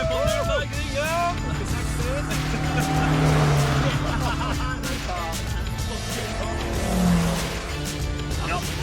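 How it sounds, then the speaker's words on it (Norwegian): Engine tones on the Nürburgring race track, a Ferrari drawing closer behind, rising and swelling twice over a steady in-car rumble, while people talk loudly over it. "nå kommer det faktisk noen med en Ferrari bak oss"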